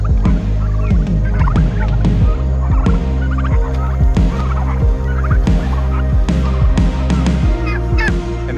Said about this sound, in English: the broad-breasted white turkeys.